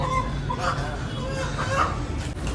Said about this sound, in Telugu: మామూలు కోళ్ళు ఇగో గిన్నె కోళ్ళు అన్ని రకాల కోళ్ళు ఉన్నాయి